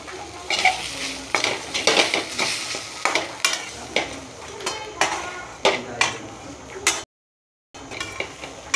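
A spoon scrapes and clinks repeatedly against a pan as a cooked, pounded mixture is moved into a dish after the gas is turned off. The strokes are close and fairly loud in an irregular rhythm, with a short silent gap near the end and no talking.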